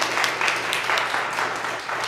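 A church congregation claps together during a Sunday morning Lent worship service, steady dense applause throughout at close range.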